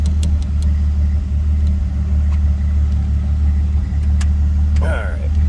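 A 1932 Chrysler CI three-window coupe engine idles steadily after a cold start, a low continuous rumble running throughout with faint background clicks and a brief voice near the end.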